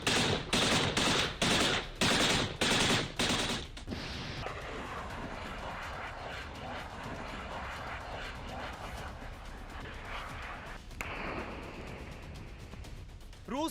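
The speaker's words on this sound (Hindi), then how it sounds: "दोनों तरफ से अंधाधुंध फायरिंग हो रही है।" A rapid burst of gunfire, about ten sharp loud shots, opens the scene, followed by a sustained distant crackle of scattered shooting and a low rumble, in the Donbas war zone between Russia and Ukraine.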